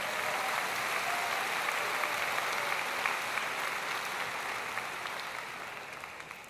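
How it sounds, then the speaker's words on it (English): A large crowd at a high school graduation ceremony applauds steadily, a dense wash of many hands clapping at once that holds strong and then gradually fades toward the end. "Please join me in a round of applause for thanking all of these people for tonight's ceremony."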